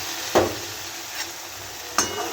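A spoon stirs ground chutney mixture into hot tempering in a pan, two distinct scraping strokes with a faint one between them over a quiet, soft sizzle.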